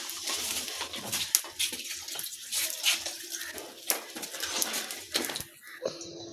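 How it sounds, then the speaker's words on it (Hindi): Water pours into a cooking pot of potatoes, a steady splashing stream running several seconds with some clinks, fairly close and alone. "अब जी मैं इसमें ऐड करने लगी हूँ पानी।"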